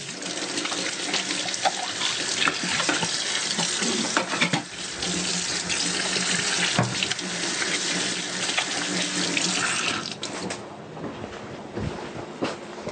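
Tap water runs steadily into a kitchen sink for hand washing, a continuous close splashing hiss that carries on with little change and eases slightly near the end.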